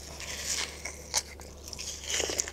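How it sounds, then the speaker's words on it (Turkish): Crunchy bite of a viral TikTok recipe with onion, a few sharp crisp crunches close to the ear over quiet background hum. "katır kütür ses çıkacak, dinleyin"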